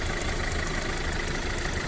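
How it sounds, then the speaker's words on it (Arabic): A Hyundai i40 diesel engine idles steadily and close by, a continuous low rumble with a faint knocking texture and no talk. "موتور امارش هو خدام دابا."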